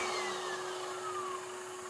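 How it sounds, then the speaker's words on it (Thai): A vacuum cleaner starts up automatically alongside a TEH wall sander, giving a loud, steady motor whine with a gliding tone over a constant hum. "ถ้าเรากดเครื่องขัดนะครับ เครื่องดูดฝุ่นก็จะทำงานโดยอัตโนม ัติทันที"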